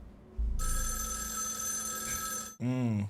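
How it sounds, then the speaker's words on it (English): A telephone rings in the film The Accountant with a steady electronic trill for about two seconds, then a brief pause before a lower warbling ring starts again. "Phone ringing."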